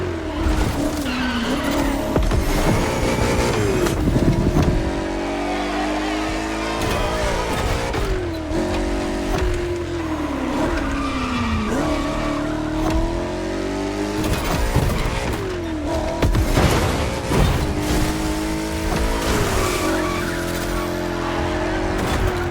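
A Mercedes-Benz 300 SLR Uhlenhaut Coupe racing in The Crew Motorfest, its engine revving up and down through gear changes, tires squealing and skidding through corners, loud and continuous for the whole run.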